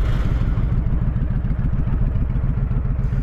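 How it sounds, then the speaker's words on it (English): A 2007 Honda VTX1300R motorcycle converted to a trike, its engine running loud and close with a steady low, lumpy rumble and faint clatter. "It starts right up."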